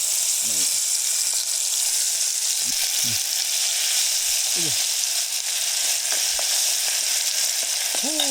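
Pounded garlic and chili fry in hot oil with a loud, dense, continuous sizzle that holds steady throughout, while a voice speaks faintly now and then underneath.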